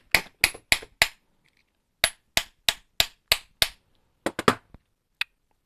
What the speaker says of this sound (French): Petit marteau caoutchouc.